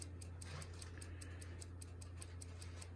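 A Hermle 132-071 ship's bell clock movement ticks steadily at a quick, even pace of about five beats per second. The ticks are faint and close, over a low background hum.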